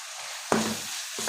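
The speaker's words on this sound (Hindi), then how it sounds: "अब देखिए प्याज हल्का सा सौते हो चुका है। अब इसमें हम डाल देंगे तंदूरी मसाला" Onions and tandoori masala fry in a pan, giving a close, loud sizzle that flares up suddenly as they are stirred and carries on with a steady crackling hiss.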